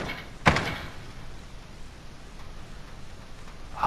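A door in a mini battle royale shooter thuds once, sharp and fairly close, over a quiet ambient bed, with a fainter knock near the end.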